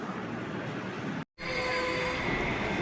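Palaruvi Express passenger train running, a steady loud rumble of the carriage with a brief dropout before the rolling noise resumes, continuous and close.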